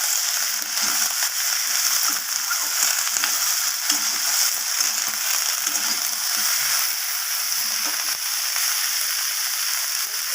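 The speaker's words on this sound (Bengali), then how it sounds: "কেটে রাখা বেগুনগুলোকে দিয়ে দিলাম আবারও সব কিছু ভালোভাবে নাড়িয়ে ছাড়িয়ে নেবো" Eggplant pieces sizzle steadily in a pan with bitter gourd and prawns, a dense continuous frying hiss broken by soft scraping stirs of the spatula throughout, close and fairly loud with no talk.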